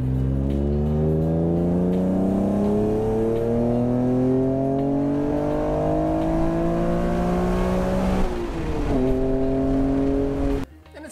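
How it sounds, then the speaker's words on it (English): A Honda NSX engine revs hard and loud, its tone climbing steadily through the gears in one long, rising pull before cutting off abruptly near the end. "the car can definitely still sound rowdy when I want it to"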